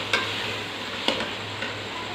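Spices and ginger frying for beef keema as they are stirred in a pan, giving a constant close sizzle with three distinct scraping knocks, and no talking.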